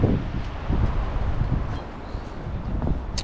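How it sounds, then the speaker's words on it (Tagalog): Strong wind rushes past in uneven gusts, with leaves rustling and a steady blustery noise close to the microphone. "lakas ng hangin"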